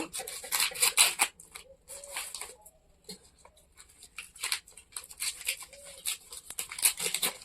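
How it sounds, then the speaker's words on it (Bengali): Scissors snip through fabric while cutting pieces for a handmade bag, a series of close, sharp crisp cuts in irregular bursts with quieter rustling pauses between them. "এই যে কাটলাম তো এখন এটা দুপাশে কেটে নেব"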